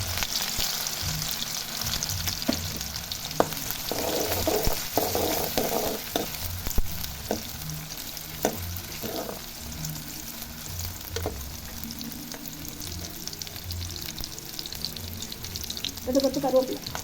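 Green chili and curry leaves hiss and sizzle in hot oil with mustard seeds in a pan while preparing a dried-fish thokku, with steady frying crackle, occasional stirring clinks and brief soft speech.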